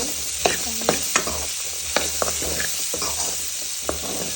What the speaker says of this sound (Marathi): तेलामध्ये फ्राय करून घेतले अजून थोडं घे परतून